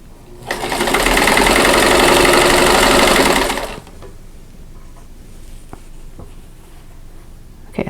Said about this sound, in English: It's just sewing a plain square to a triangle square.